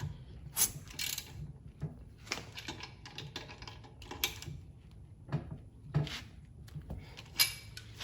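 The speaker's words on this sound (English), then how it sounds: "get your socket, and keep this tightening again" A socket wrench tightening the lug nuts on a car wheel after a spare tire change, giving off repeated close ratcheting clicks in uneven bursts over several seconds.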